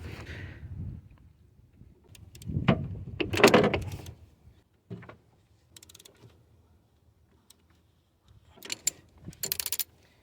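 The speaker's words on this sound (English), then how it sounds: "I'm gonna be using this very small 14mm wrench to finish taking it out" Flare nut wrench, 14mm, working a brake line fitting on a Ford Escape or Mazda Tribute ABS pump and master cylinder: scattered metallic clicks and clanks, with a louder burst of rattling mechanism noise early and again near the end, no speech.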